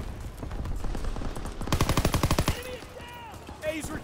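Video game gunfire crackles in a fast automatic burst of evenly spaced shots, then gives way to fainter clicks and tonal sweeps amid background game noise.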